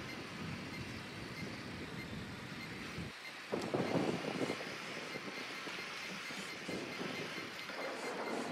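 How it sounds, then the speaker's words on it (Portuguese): A drone skims low over rocky mountain terrain in Ghost Recon Wildlands, giving a steady whirring, wind-like engine drone that briefly swells louder midway, then settles back to a constant hum, with no speech. "Tens de voar, tens voar com o drone baixo"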